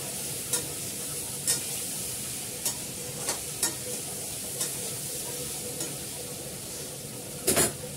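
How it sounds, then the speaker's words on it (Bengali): Frying curry hissing steadily in a pan as oil separates, with a constant bright sizzle and occasional sharp taps of a stirring spoon against the vessel, close and without speech. "এবার জল দিয়ে দেবো, আস্তে আস্তে তেল ছেড়ে দিচ্ছে।"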